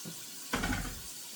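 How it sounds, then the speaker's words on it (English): Hot water poured into oatmeal in a kitchen, a single short splashing pour lasting under a second, close and fairly soft. "Add a little bit more hot water."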